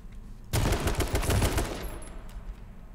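A rapid burst of automatic gunfire in the battle royale game H1Z1 King of the Kill, a dense rattle lasting about a second before fading into a quieter tail.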